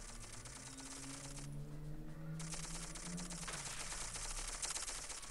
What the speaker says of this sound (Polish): To jest gdzieś strzały.